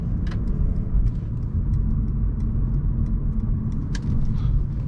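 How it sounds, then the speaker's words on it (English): Low, steady engine rumble from a 2020 Mercedes C-Class AMG pulling away after a light throttle tap, heard from inside the cabin and fairly even with no voices. "You need to just tap into the throttle and the car will accelerate"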